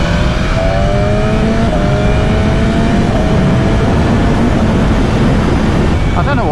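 BMW S1000RR sport motorcycle engine riding at steady moderate speed, a continuous loud drone with gently rising pitch and heavy wind rush throughout.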